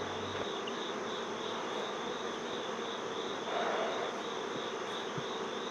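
Honey bees buzzing steadily around a hive entrance during an oxalic acid treatment, a continuous close droning hum with no talking.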